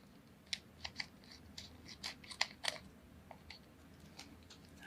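Sharp, scattered scissor snips cut through acetate at a crafting table, a dozen or so quick clicks in uneven bursts, close but fairly soft, with no talking.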